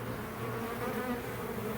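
A honeybee swarm buzzes around a gloved hand during a hive removal in Lakeland, Florida: a dense, steady drone of many wings, close and continuous with no talking over it.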